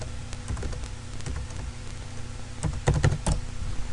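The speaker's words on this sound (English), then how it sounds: "You want to type in your default gateway into your web browser." Computer keyboard keys tapped in a short burst over a steady background hum, a few scattered clicks early and a denser cluster near the end, close and moderately loud.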